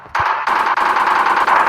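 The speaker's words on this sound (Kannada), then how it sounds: "ಮೆಷಿನ್ ಗನ್ನ ಟ್ರೈ ಮಾಡೋಣ." Machine gun fire in an Indian-themed GTA V video game, a loud continuous rattling burst of rapid automatic shots that starts abruptly and keeps going with brief hitches, close and dominant.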